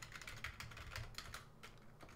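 Quiet, irregular keypresses on a computer keyboard during a coding session, a soft run of clicks and taps at close range with no talk.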